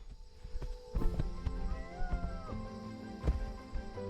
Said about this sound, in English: Again with the cat noises.